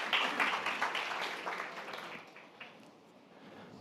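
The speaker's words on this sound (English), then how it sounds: "A round of applause for our first startup of the second batch." An audience at a startup pitch battle event claps for the first startup taking the stage, a fairly faint, brief burst of applause that fades out quickly into quiet room noise.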